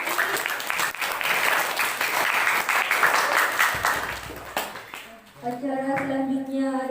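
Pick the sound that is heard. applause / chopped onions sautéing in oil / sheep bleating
applause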